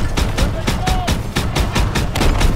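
Rapid bursts of gunfire in Call of Duty WW2 crack out in a steady, loud rhythm, close and dense with a heavy low rumble beneath, and no talk over them.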